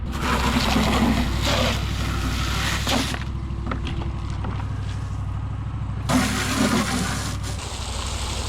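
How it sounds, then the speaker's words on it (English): Steady rushing water fills a trough, loud and close, with a brief dip in the middle before the full gush returns. "Let's get the water filled up here then"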